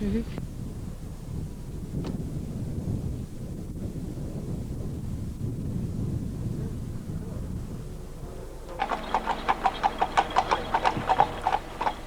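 Horses walk at a steady cadence on a countryside ride around Blaton, their hooves clip-clopping under gusty wind noise on the microphone, with a brighter run of clopping near the end.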